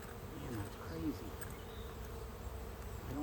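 Honey bees hum steadily around an open hive during an inspection, a dense, even drone with no talking.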